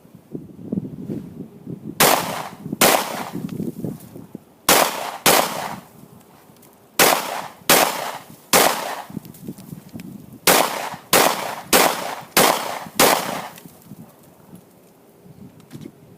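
A Sigma pistol firing mixed ammunition, about a dozen sharp outdoor shots, loud and close, in uneven clusters with short pauses and echoing tails.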